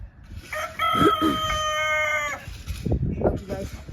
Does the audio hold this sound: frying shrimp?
no